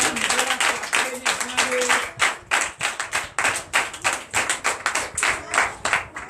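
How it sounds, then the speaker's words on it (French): Congregation at a Sunday church service in Comè, Benin, clapping in a steady, rhythmic beat, loud and close, with a voice speaking briefly over the start. "Que je vous demande d'applaudir très fort."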